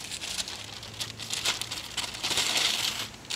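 Paper being crumpled and stuffed into an upturned charcoal chimney before grilling, a close crinkling and rustling that comes in irregular bursts, louder toward the end.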